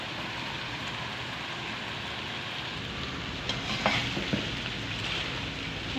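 Spaghetti and vegetables, with chicken, are tossed and mixed in a hot sizzling pan, giving a steady close frying hiss with a few soft scraping stirs near the end.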